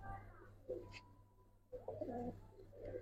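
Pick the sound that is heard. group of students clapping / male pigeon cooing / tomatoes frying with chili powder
male pigeon cooing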